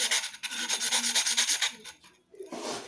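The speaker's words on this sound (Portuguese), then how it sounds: "Você vai lixar assim, ó." Sandpaper sanding the cut edge of a glass bottle, a close rhythmic rasping of quick back-and-forth strokes, a brief pause, then another stroke.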